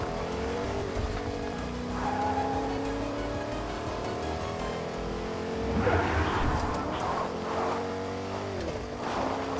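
A car engine in the Fortnite video game revs and shifts pitch as the vehicle drives and accelerates, with brief tire-squeal-like scrapes, loud and continuous with no talking.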